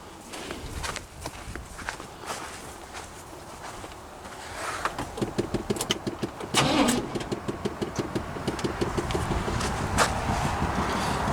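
1993 Chevrolet 3500 truck with a fuel pump fault cranking and starting after years of sitting, engine turning over in rhythmic pulses, then catching and running steadily, close and loud.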